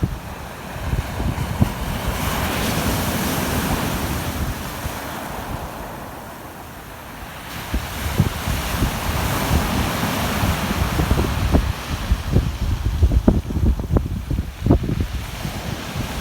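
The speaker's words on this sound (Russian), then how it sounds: "Море волнуется." Stormy sea surf rolls and crashes onto the city beach at Tuapse on a cold, cloudy November day, with steady wind buffeting the microphone and repeated loud wave surges throughout.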